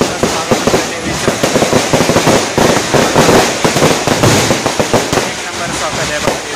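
Dense volleys of firecrackers burst in rapid, overlapping cracks and pops at a village celebration welcoming a goddess in Adbandar, loud and continuous with voices mixed in.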